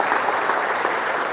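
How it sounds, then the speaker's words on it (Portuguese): A church congregation bursts into steady applause during a service, dense clapping from many hands with no speech. "dá uma salva de palmas para Jesus"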